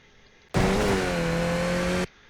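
A Skip Barber race car in the iRacing simulator at Knockhill, engine suddenly roaring up to full throttle with a loud, steady rising tone that cuts off abruptly after about a second and a half.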